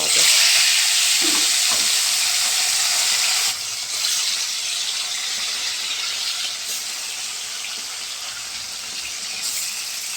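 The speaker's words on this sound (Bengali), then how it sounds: "আমার তেল হয়ে গেছে তো মাছগুলো আমি ভেজে নেব" Bata fish fry in hot oil, giving a loud continuous sizzle that hisses broadly and eases slightly partway through, with a faint voice underneath.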